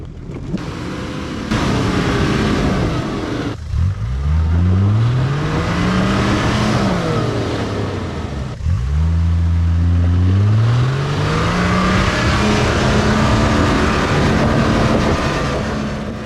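Nissan GU Patrol 4x4 climbing a steep dirt track, its engine loud and close, revving up through gears in two rising surges, then holding a steady drone.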